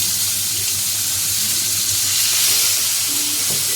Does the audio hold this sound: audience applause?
no